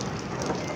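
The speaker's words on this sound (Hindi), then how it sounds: "देखिए इतनी तेज़ बारिश हो रही है, बहुत तेज़ हो रही है" Heavy rain pours down steadily, a dense, loud, continuous hiss with no voices.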